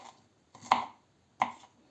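Two sharp knife chops on a cutting board, cutting food into cubes, spaced about a second apart, close and clear with quiet between them.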